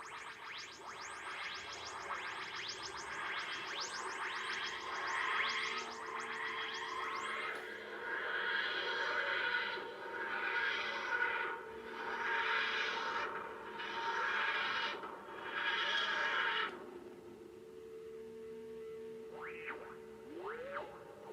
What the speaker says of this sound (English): this is the sound it makes when it lands